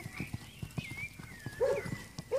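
A horse, likely named My Way, cantering during a riding lesson, with steady rhythmic hoofbeats thudding on the ground and a faint high tone drifting above them.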